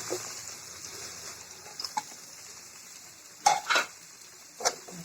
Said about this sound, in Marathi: आता कांदा घालायचा